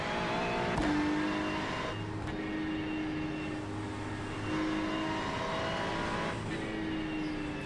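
Race cars in iRacing during a four-hour endurance round at the Nürburgring, engines droning and shifting as cars overtake, a steady loud mechanical roar with pitch changes, no talk.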